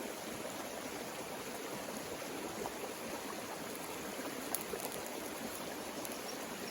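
Steady rushing of a creek flowing close by, a continuous broadband wash of water with faint clicks on top and no voices.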